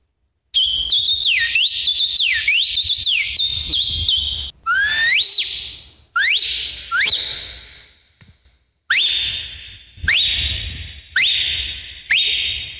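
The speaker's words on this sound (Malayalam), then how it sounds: "10 വിരലിൽ വിസിൽ അടിപ്പേൻ. 10 വിരൽ. 10 വിസിൽ." A performer whistles with the fingers, producing a run of loud, piercing, sliding tones in separate bursts with short gaps between them, alone and without talk.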